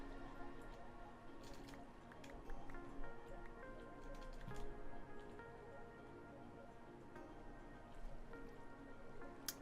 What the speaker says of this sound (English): It's pouring in? Yeah, it's pouring in.